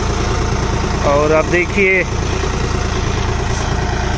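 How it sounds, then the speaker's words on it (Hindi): Tractor engine idling and running steadily while levelling a farm field with a soil leveller, a loud continuous drone throughout, with someone talking briefly over it. "चला रहे हैं हमारे ट्रैक्टर"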